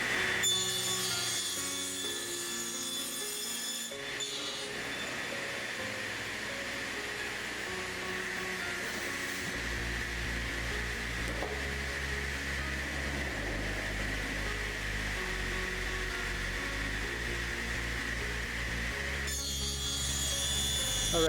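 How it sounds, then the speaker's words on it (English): Panel saw cutting wood at a 45 degree angle for a birdhouse, a loud continuous whine and grinding rasp with shifting pitch as the blade runs through the board. "take it over to the panel saw and cut it on an angle 45"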